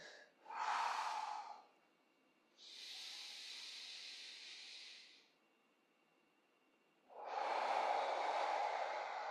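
Slow breaths in and out during a relaxation exercise lying on the floor, three long airy breaths separated by quiet pauses, close and soft with no talk.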